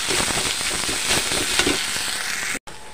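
Masala and lentils sizzle and crackle steadily in a hot kadai, a loud continuous frying hiss that breaks off briefly near the end.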